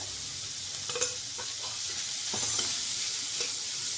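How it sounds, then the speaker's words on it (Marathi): Onion with turmeric sautéing in a pan for a quick vegetable dish, giving a soft, steady sizzle with scattered stirring scrapes and one sharp clink, close but fairly quiet. "कांदा आपल्याला थोडासाच परतायचा आहे"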